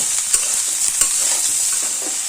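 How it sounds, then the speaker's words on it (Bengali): Thin-cut carrot strips frying with winter vegetables in very little oil and no water, a steady soft sizzle broken by a couple of sharp spatula scrapes against the pan. "গাজরটা দিয়ে দিলাম গাজরটাও এইসব সবজির সঙ্গে এক দেড় মিনিট ভেজে নেব"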